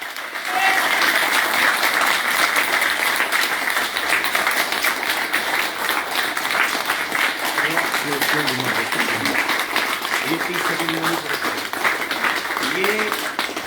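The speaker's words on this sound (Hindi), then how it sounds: "तालियां अच्छे से बजनी चाहिए, अच्छे से।" Audience applause at a hospital health talk, a sustained dense wash of clapping from a crowd that fills the whole stretch, loud and steady, with faint voices underneath toward the end.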